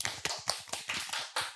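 A small group clapping for a podcast guest, about seven or eight distinct claps in quick, slightly uneven rhythm, close and crisp over a short burst.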